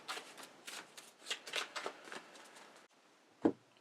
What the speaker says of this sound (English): We need to draw, but our deck is empty, so we have to shuffle.